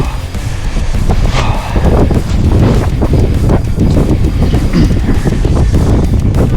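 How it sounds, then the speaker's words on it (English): Strong wind roars steadily against the microphone outdoors on a late-fall pike fishing trip, a loud, continuous buffeting rumble with gusty surges throughout. "This wind is crazy too"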